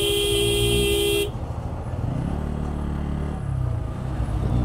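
A Pulsar N160 motorcycle's horn blares steadily for about a second at a bus blocking the road, then the bike's engine hums and rumbles on its own.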